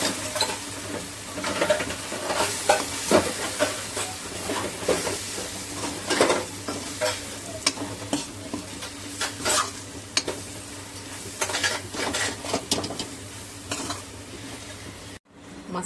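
Masala powders frying and sizzling in a pan for chicken curry while a spoon stirs steadily, with repeated scraping and clinking against the metal close up and no talk.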